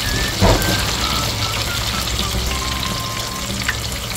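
Chicken pieces fry crisply in hot oil for Korean-style fried chicken, with a loud, close, continuous sizzle and a brief clatter of stirring near the start, and no voices.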